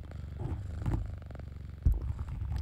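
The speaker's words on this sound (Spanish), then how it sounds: "mira cómo ronroneas" Close, continuous low purring of a small kitten in an ASMR roleplay, a fine rhythmic rumble heard alone with a brief soft bump near the end.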